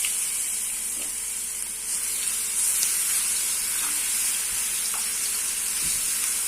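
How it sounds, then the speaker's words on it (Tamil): Ground garlic and mustard seeds sizzling in hot sesame oil in a pan, a steady bright frying hiss with occasional small pops and crackles, close and continuous with no talking. "இப்போ நம்ம அந்த அரைச்ச அந்த பூண்டை சேர்த்துடலாம்."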